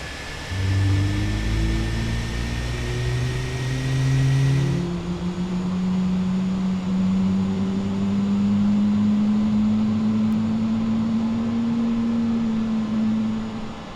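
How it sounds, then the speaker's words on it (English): An airliner's number one engine spools up during startup in Microsoft Flight Simulator, a loud steady whine and rumble that slowly rises in pitch, heard alone. "Let's start engine number 1"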